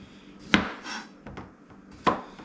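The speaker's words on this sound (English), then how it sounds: "I'm just going to cut it up a little bit into chunks." A knife slicing zucchini into chunks on a cutting board, a few sharp separate knocks spaced about a second apart with quieter taps between, close and clear.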